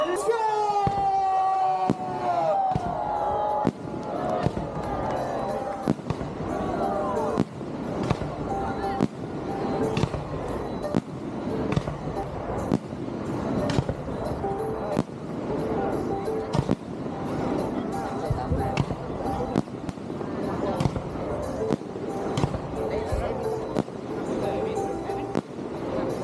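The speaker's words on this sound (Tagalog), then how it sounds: "Are you ready for fireworks?" Fireworks burst at the Loy Krathong sky lantern festival night in Chiang Mai, a run of repeated pops and bangs over a crowd, with people talking throughout.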